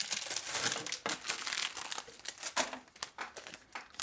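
Thin plastic sleeve crinkling and crackling while a folded card and envelope are slipped inside, with a run of close, uneven rustling bursts and short pauses.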